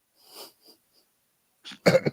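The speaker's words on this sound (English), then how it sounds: "Cough, cough." A couple of soft breathy sounds, then a loud, close burst of rough coughing near the end.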